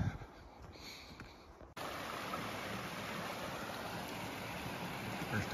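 Taylor Creek rushing along beside a backpacking trail in Banff National Park, a steady broadband wash of flowing water that jumps louder after a brief cut and holds constant, close by and without talk.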